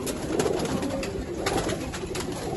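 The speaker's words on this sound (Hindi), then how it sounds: "इतने सारे कबूतर हैं माशाल्लाह।" A loft packed with pigeons, including flying performance birds, fills the air with dense, overlapping cooing, a loud continuous murmur of throaty calls close at hand.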